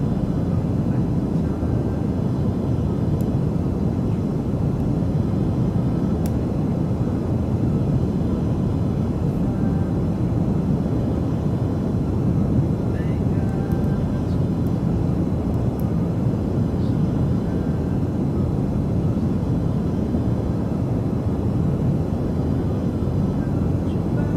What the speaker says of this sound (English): We're just about to land for the last one, Carl.